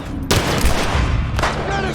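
Rifle fire in The Last of Us Part I on Grounded difficulty: loud, dense gunfire bursts with sharp onsets near the start and again near the end, over continuous game background noise.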